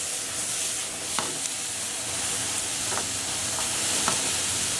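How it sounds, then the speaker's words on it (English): Butterflied prawns frying over high heat give a steady, close sizzling hiss, broken by a few faint clicks of stirring. "Prawns only take about 1 or 2 minutes on a high heat to cook."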